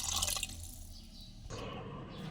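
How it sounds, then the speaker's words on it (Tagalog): Water is poured into a pot of sautéed pork to make broth for Filipino nilagang baboy, a brief splashing pour heard up close with no talking. "Lagyan na natin ng tubig ang baboy, yung linaga nating baboy para magkaroon ng sabaw."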